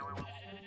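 A sheep in the Minecraft video game lets out one short bleat, brief and moderately close, over a low steady game background hum.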